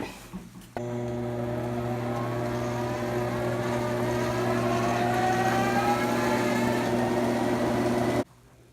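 A treadmill motor carrying a pinewood derby car riding a rail starts abruptly, then holds a steady whining hum with a faint rising tone for about seven seconds before cutting off sharply.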